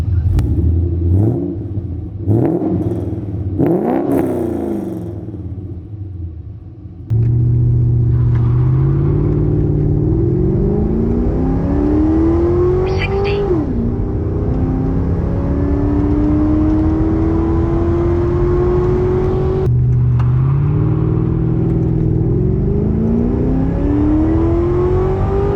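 A Jeep WK fitted with a Black Ops performance exhaust on a stock tune accelerates hard on the street, its loud, close engine note climbing steadily through the gears with brief shift breaks, with no talk over it.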